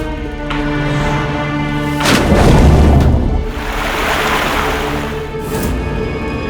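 Ocean waves wash onto a shore in a broad, rushing surge that swells loudest in the middle and then eases, set under steady, sustained background music.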